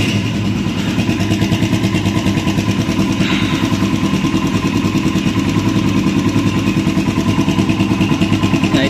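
A motorcycle whose charging system burns out its bulbs starts up and settles into a loud, close, steady idle with an even rapid engine pulse.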